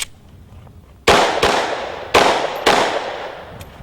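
Four sharp, loud pistol shots crack out at an IDPA shooting stage, unevenly spaced over a few seconds, each with a brief decaying ring and no talking.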